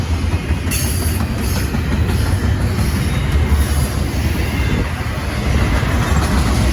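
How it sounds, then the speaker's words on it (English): A Norfolk Southern JB Hunt intermodal double-stack train passes westbound close by, a loud continuous rumble and roar of rolling cars and wheels throughout. "what we got here today is a JB Hunt intermodal trailer"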